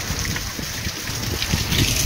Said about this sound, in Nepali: पानी एकदमै तुफान आछ